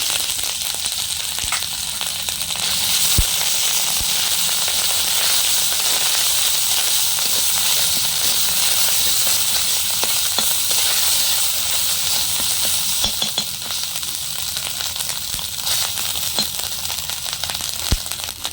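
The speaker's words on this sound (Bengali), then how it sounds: "এবার কড়াইতে দিয়ে দিচ্ছি সামান্য আদা বাটা।" Ginger paste sizzles and fries steadily in hot mustard oil in a kadai, a loud continuous hiss with occasional stirring clicks, carrying on without talk for the whole stretch.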